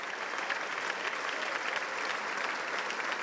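Sustained applause fills a large hall after Netanyahu's speech in Washington, D.C., a dense steady patter of many hands clapping at moderate distance without pause.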